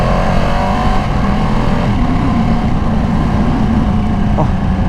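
A Ducati motorcycle accelerating hard with a quick shifter, its loud engine droning steadily and close throughout as it climbs through gears, with no speech.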